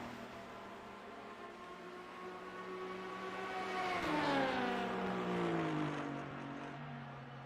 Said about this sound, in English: Hopefully I'm not being drowned out by the sound of the cars